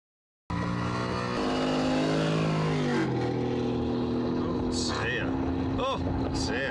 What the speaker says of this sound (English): Sounds like Morris Minor